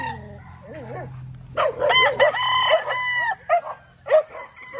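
An Allen Roundhead gamefowl rooster crows loudly and close, one long harsh cock-a-doodle-doo with softer clucks and calls before and after, no talking.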